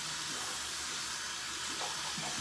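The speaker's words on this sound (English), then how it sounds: "Just letting the water warm up." Tap water runs steadily into a sink while it warms up, a continuous, even rush and hiss with no pauses and no voices.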